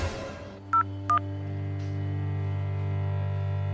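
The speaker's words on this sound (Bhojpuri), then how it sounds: "अभी हम दरोगा भूटान के फोन करता नहीं।" Two short touch-tone beeps ring out close by as a phone number is dialed, and a steady electrical hum rises and carries on under them. No one speaks.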